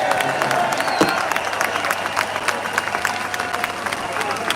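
Outdoor crowd at a street rally applauding and cheering, dense sustained clapping with scattered shouts and background voices throughout.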